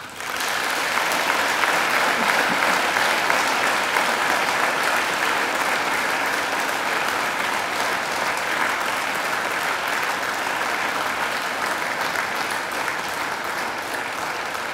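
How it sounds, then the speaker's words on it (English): Sustained applause from graduates facing their families and friends at a university graduation ceremony, a dense, steady wash of many hands clapping in a large hall, loud and continuous throughout. "And now I invite you to give them a mighty round of applause."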